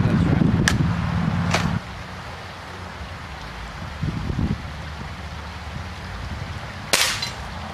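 BB gun shots fired at old CRT televisions outdoors, with a few sharp cracking snaps spaced seconds apart and a short rustle, heard alone without speech.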